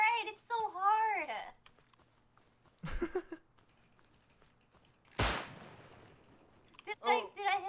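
Gunfire in the survival video game Rust: a sharp shot, then a louder blast a couple of seconds later, with excited voices talking before and after.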